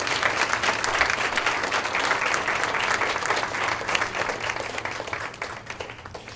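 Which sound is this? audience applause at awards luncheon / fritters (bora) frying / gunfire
audience applause at awards luncheon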